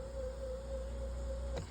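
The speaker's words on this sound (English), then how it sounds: "Actuators seem to be working well" Power seat motors in an Infiniti Q50 whir steadily for a short stretch, a faint, even electric hum that ends with a small click as the actuator stops.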